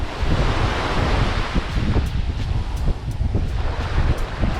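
Steady ocean surf rushes and churns with gusts of wind buffeting the microphone on a beach on Culebra island, Puerto Rico, a continuous loud roar with no voices.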